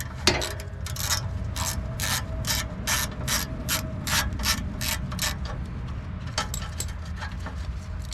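Ratchet loosening a 1/2 inch nut on a Ventrac 4500Z mower, a loud, close series of evenly spaced clicking strokes over a steady low engine-like hum, a short pause, then a few more clicks.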